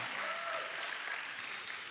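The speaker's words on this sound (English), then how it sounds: "Let's give yourselves another round of applause." A pageant audience in Lynchburg claps steadily in dense, sustained applause, moderately loud, with a faint voice or cheer mixed in.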